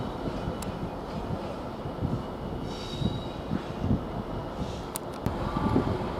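A train rolls through Doncaster railway station, a steady, loud rumble of wheels and carriages close by, with brief wheel squeals and clanks along the way.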